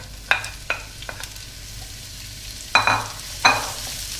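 Vegetables sizzle gently in olive oil in a large heated pan over medium heat, with a steady low frying hiss broken by several sharp scrapes and stirs of a utensil.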